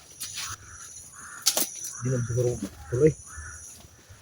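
Several crows caw in short, harsh bursts at moderate distance in an outdoor setting, interspersed with a person speaking quietly nearby and faint insect-like chirps.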